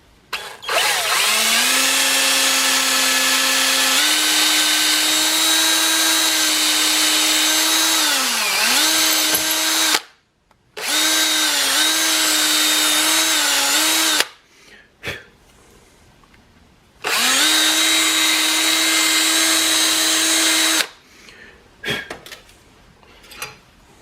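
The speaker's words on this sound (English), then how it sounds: "We're just going to basically drill a hole down through the center here." A power drill boring a hole down through the center of a forged knife handle, a loud steady whine in long bursts with short pauses between, the pitch sagging briefly under load.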